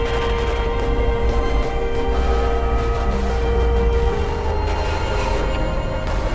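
Atonal, heavily distorted music from the OMORI video game soundtrack, a dense, harsh and loud wall of noisy sound that continues unbroken with no voices over it.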